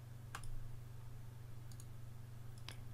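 Mouse clicks on a remove button in a user-account admin window, a few short sharp ticks spread across a steady low electrical hum, close and fairly faint with no talk.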